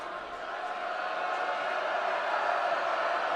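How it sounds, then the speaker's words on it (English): A packed gym crowd at a Kentucky high school boys' basketball regional championship, Trinity versus Male, roars at a free throw shooter late in a tight game, a steady, dense wall of noise that swells louder toward the end. "And the crowd sure letting Jason Gasaway, the sophomore, hear about it."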